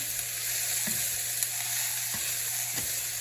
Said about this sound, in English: This needs to be salted because it's really plain. Just a quick stir fry.